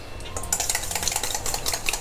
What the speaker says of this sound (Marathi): दही थोडंसं फेटून घेऊया